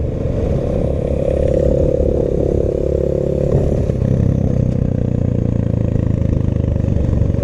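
A Voge 300 Rally motorcycle rides along off-road, its mid-pitched engine droning loudly and steadily throughout with some clatter, no voices.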